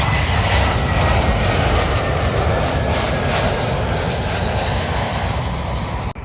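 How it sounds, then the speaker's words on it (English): An Airbus A320 airliner on approach into London Heathrow, a loud, steady roaring engine rumble with a high whine, close overhead and continuous, no talk. "A320 coming in from Prague."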